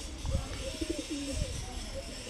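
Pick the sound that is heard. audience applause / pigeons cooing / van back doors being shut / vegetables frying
pigeons cooing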